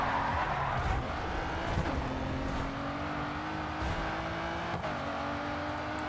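A Ferrari race car engine in Grid 2 holds a steady, loud drone with a faint shift in pitch partway through, alone and without talk.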